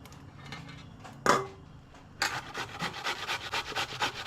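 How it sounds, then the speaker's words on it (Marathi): Cucumber grated finely for a Goan cucumber cake, close rasping strokes in a quick regular rhythm that start after a pause and a single knock, then continue without talk. "सो हे पळयात अशें किसप जावंक जाय आमचें बरें बारीक."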